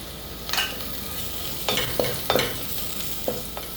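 Ginger, garlic, split green chillies and curry leaves sautéing in a pan for coconut milk biryani in a pressure cooker, a soft steady sizzle broken by several sharp scrapes and clanks of a stirring spoon.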